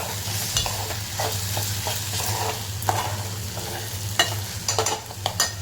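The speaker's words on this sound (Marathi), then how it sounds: "त्यालाही असं आपण परतून घेऊया" Onion and tomato sauté in a pan, a steady sizzle under repeated scraping and stirring strokes from a spatula, close and fairly loud with no voices.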